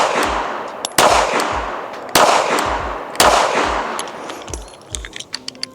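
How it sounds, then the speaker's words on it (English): Ruger LCP II .380 pistol firing five 95-grain rounds at a target five yards away, loud sharp reports spaced about a second apart, each with a short ringing decay and a faint clink afterward. "First up, LCP II, 380, 95 grains, right there. 5 rounds, 5 yards,"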